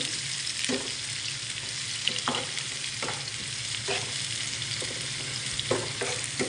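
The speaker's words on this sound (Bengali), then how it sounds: "হলুদে মাখানো মাছগুলো আমি এখন একটু নেড়ে নেব।" Turmeric-coated fish frying in hot oil in a pan, stirred now and then: a steady loud sizzle runs throughout, broken by several soft scraping stirs, with no talking.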